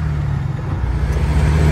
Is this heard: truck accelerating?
yes